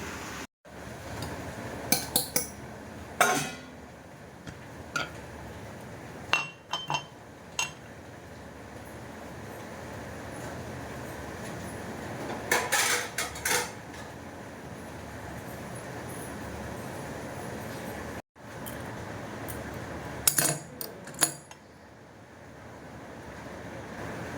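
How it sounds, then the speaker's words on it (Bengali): Tea leaves are added to a pot of boiling water on the stove, with a steady rushing roar of heat and bubbling and a few scattered metallic clinks of pot and utensils. There is no talk. "চায়ের জল ফুটে গেছে চাটা দিয়ে নিই"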